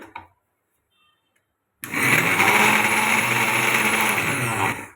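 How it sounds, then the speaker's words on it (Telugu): A mixer grinder blends tamarind leaves and green chillies, starting after a near-silent pause and then whirring loudly and steadily to the end, a dense motor roar with no talking. "ఇవి మళ్ళీ మిక్సీ పట్టుకున్నాను."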